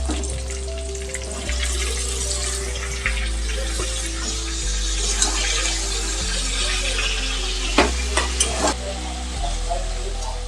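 Tomato, garlic paste and chopped green chilli stirred in a kadai for chicken curry, giving steady frying and stirring noise with watery bubbling and a few sharper clinks, near and continuous with no talk.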